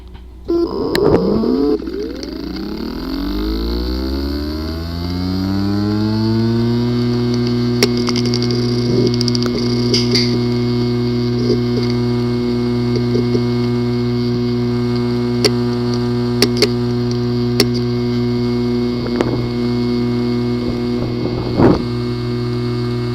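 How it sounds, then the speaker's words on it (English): A physically damaged disk assembly in a Western Digital hard drive spins up with a rising whine that settles into a loud, steady hum, marked by scattered sharp clicks and ticks. "The following is the sound from one of the hard drive which experienced disk assembly physical damage."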